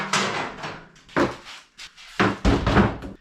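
A toolbox drawer is worked in several bursts, with sliding metal rattles and clunks as it is pulled open and shoved, separated by short quiet gaps.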